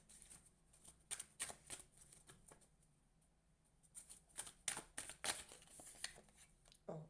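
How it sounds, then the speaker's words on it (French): Tarot cards being shuffled by hand in quiet, close bursts of papery riffling and flicks, pausing in the middle and resuming more busily. "j'attends de brasser les cartes avant de vous parler"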